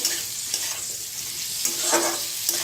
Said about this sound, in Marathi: फुलगोबी भाजायचं छान असं तेलात.